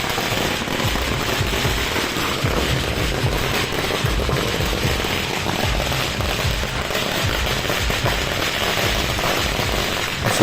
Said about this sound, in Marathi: पहिले माझ्यासाठी फटाके फोडले.